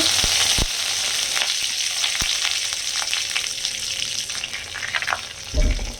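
Cinnamon, cloves and curry leaves fry in hot oil for a goat head curry, a loud continuous crackling sizzle with sharp pops and a heavier splash near the end.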